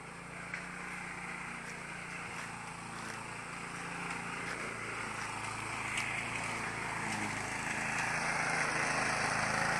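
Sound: lawn mower mowing the lawn around a house

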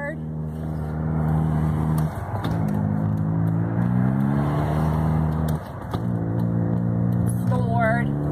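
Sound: car engine with accelerator floored going downhill

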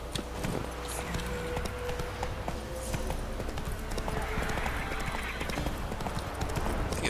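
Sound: horse galloping in video game

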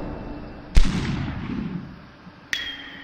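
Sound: gunfire in the Superhot video game

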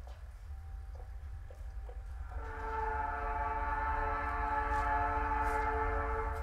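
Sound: train passing in video game Night in the Woods

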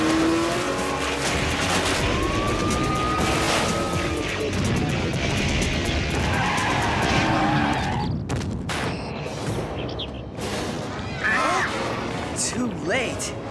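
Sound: cartoon truck speeding with new nitro injection system

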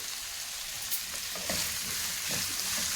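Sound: frying ingredients on high flame for cucumber chutney

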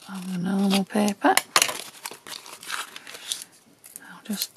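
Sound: tearing the edge off tracing paper tape

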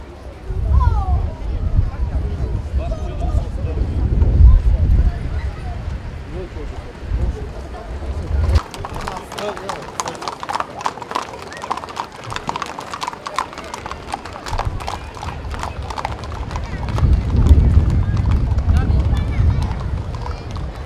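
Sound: horses' hooves of a mounted group at a military parade

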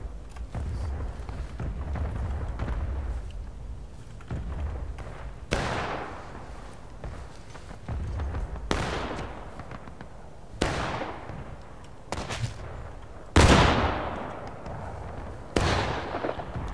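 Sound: musket gunfire in battle, from video game War of Rights

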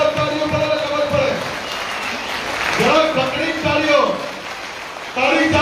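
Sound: crowd clapping at a political rally

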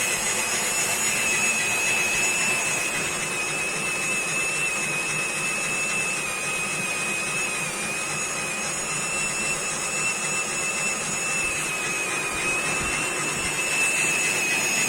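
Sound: homemade pollen winnowing fan running at medium speed

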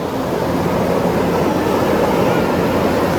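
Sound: speed boat passing at sea at sunset

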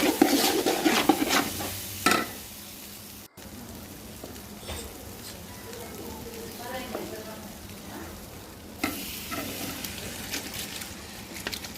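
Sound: rice and peas frying and stirred in a pot

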